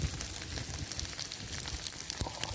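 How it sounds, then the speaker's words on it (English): Beef with honey and garlic sizzles over a campfire in Scottish woodland, a close, steady hiss laced with small pops and crackles. "Oh, sizzling. Absolutely sizzling."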